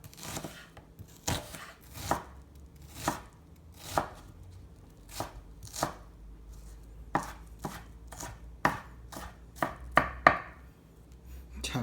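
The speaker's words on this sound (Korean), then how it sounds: "양파를 잘게 다져줍니다" An onion is finely chopped with a knife on a board, giving a series of sharp, distinct thuds near the mic that start spaced out and quicken toward the end.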